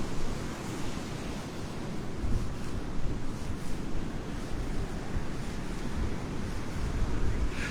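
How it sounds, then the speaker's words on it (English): Steady wind buffets the microphone on a Gulf beach at Delnor-Wiggins, a broad rushing roar with soft surf beneath and occasional low gusts, continuous and fairly loud with no talk. "A little wind."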